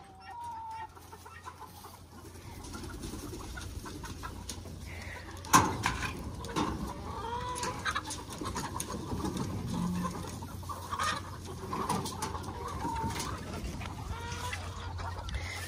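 Chickens cluck and murmur in a coop, several birds close by making soft, irregular clucks and calls with an occasional louder squawk over a low background hum.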